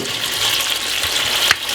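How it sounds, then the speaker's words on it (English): Pepper, carrot and onion for Jamaican brown stew chicken sizzle steadily and close in a hot pan, with a brief stirring scrape near the end and no talk. "You got the pepper, carrot, onion, and all these things in it. So I'm going to fry them off"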